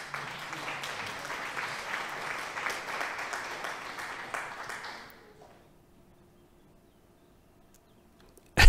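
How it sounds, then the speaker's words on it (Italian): Applause for Zappation on an Italian Twitch stream, a steady wash of clapping, likely a sound effect, that runs for about five seconds and then cuts to near silence, followed by a sudden loud burst at the end. "Facciamo un applauso a Zappation."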